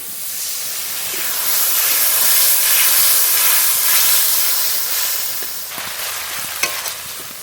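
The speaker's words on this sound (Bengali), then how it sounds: "এবার একটু জল দিয়ে মশলাটা কষিয়ে নেবো" Spice paste of chilli paste, salt and turmeric powder with a splash of water frying in a pan, a steady loud sizzle and hiss with stirring scrapes, steam rising and fading slightly toward the end.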